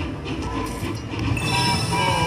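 Train sound effect from the All Aboard Dynamite Dash slot machine, a rumbling rail-car clatter with bright chiming tones layered over it, steady and fairly loud throughout.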